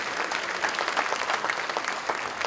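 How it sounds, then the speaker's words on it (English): An audience claps at an all-county school band concert in Wayne County, West Virginia, a sustained, even round of applause from a sizable crowd with no speech over it. "So give them a round of applause, please, for helping us out."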